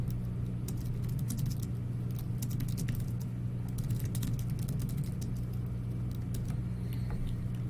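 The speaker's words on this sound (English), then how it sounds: "I've got my keyboard a lot closer to my body than normal to make room for the microphone, so my typing's a little jammed." Rapid typing on a computer keyboard held close to the body, a dense run of quick key clicks over a steady low hum, near and continuous with no talking.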